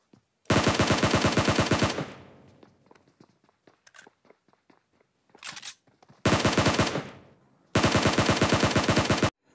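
Automatic-weapon gunfire in the battle-royale game PUBG: three long, loud rapid-fire bursts of evenly spaced shots, with quieter footsteps and a short distant burst in the gaps, no talking.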